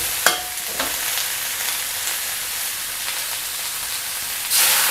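Steady close sizzling hiss of Chinese kale and crispy gourami fish being stir-fried in a hot wok, with a couple of sharp clinks early and a louder burst of sizzle near the end.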